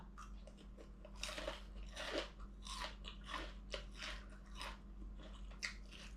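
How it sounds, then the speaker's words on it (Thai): Crispy battered, deep-fried heads, marinated and split in half, are bitten and chewed up close, giving loud, irregular crunches and crackles over a quiet background with no talking. "เคี้ยวกินเลย"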